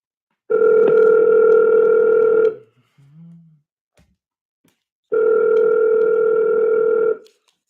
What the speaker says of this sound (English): Let me just try calling you back real quick